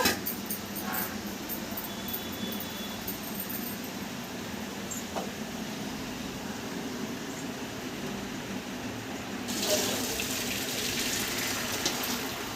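Cooking water drains steadily from half-cooked rice through a colander into a bowl below, a soft continuous trickle that swells a little louder toward the end, with no voices.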